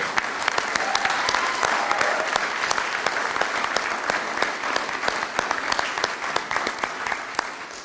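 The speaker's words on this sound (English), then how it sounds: "If you'd like to applaud, I will." Audience applause at an Amazon welcome event with the Texas governor, a sustained dense wash of clapping from a large crowd, loud and even for several seconds with individual sharp claps standing out near the microphone.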